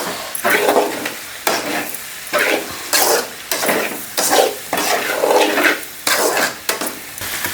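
Ginger and turmeric fry in a pan for a prawn and brinjal curry, with a steady sizzle broken by rhythmic stirring scrapes that come roughly every half second, close and fairly loud.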